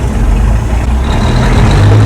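A 1953 Peterbilt truck drives with a loud, close diesel rumble, its low engine drone rising as it pulls through a gear.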